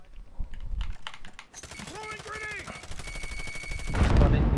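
Video game gunfire in a squad shooter, rapid bursts of automatic shots mixed with keyboard clatter, and a voice speaks partway through.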